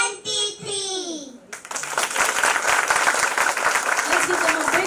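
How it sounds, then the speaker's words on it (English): Audience applause at a school science event, a dense burst of clapping that starts after a voice and continues steadily and fairly loud to the end. "Let's give them a big round of applause."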